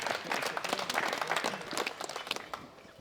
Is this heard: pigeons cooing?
no